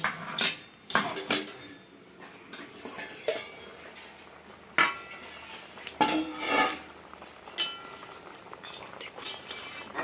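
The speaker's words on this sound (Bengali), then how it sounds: "আমি সাত মিনিটের পরে ঢাকনা খুলে দেখছি" A pot lid lifted and handled while kanji tok cooks, sharp metallic clinks and clatters of lid and utensil against the pot, several distinct close hits with quieter rattles between, no voices.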